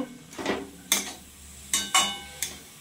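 Grated coconut stirred into a jaggery mixture in a bowl, with a few sharp scrapes and knocks of a spoon against the bowl, spaced irregularly and close by.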